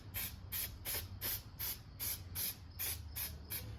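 Short bursts of aerosol cleaner or oil spray hit a performance air filter from a 2014 Yamaha Bolt 950cc motorcycle, about ten quick, evenly spaced hissing puffs close to the mic over a low hum.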